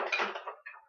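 A spoon clinks briefly against dishes as it is picked up, with a short bright clatter followed by a fainter second rattle, close and alone.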